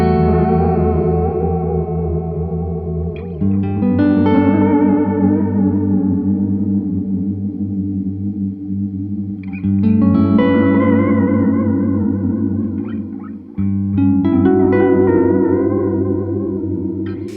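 An instrument plays through a Benson Delay digital delay pedal set to random waveform mode, heard alone. Three sustained chord swells each trail off into wavering, warbling repeats that drift unpredictably in pitch.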